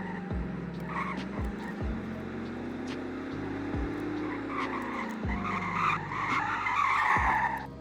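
A Koenigsegg Regera slides on a racetrack in Greenville, Wisconsin, its tires squealing and skidding in long drawn-out passes over a steady engine drone, with a few sharp thumps, close and loud throughout.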